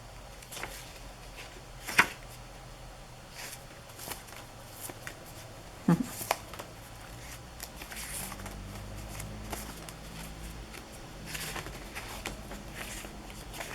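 Paper cards and see-through parchment from a flea market are handled, with soft rustling and shuffling throughout and a couple of sharper taps, quiet and close.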